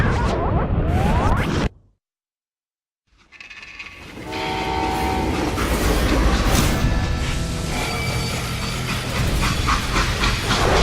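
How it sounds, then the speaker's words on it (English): A train rumbles and clatters through a Wild West scene in the video game Call of Juarez: Gunslinger, a loud rolling roar with tonal whistle-like notes after a brief silence. "How'd they stop this train in the first place?"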